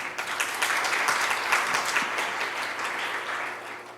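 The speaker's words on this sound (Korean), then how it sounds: "선배님께 많은 박수 부탁드립니다." Audience applause for an alumni speaker at a Korea University campus lecture, a full room of steady clapping that swells and continues for several seconds.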